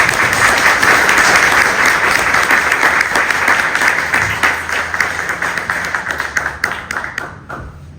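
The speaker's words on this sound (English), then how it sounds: "Another round of applause for Gideon Bernstein." Loud applause from a luncheon crowd at a Signal Hill and Long Beach LGBTQ+ Chamber of Commerce event, thick clapping at first that thins into scattered individual claps and fades out near the end.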